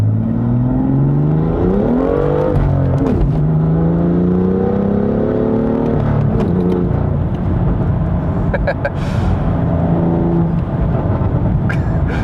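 A BMW F-chassis car engine revs and accelerates hard with the rear wheels spinning, pitch climbing through gears with brief drops between shifts, loud and close throughout.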